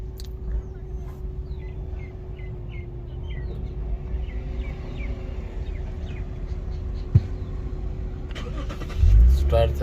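A 2017 Lexus GS450 hybrid starts up and idles near its air-conditioning system, a low steady engine hum with a brief clunk, then a louder surge near the end, with birdsong faintly in the background.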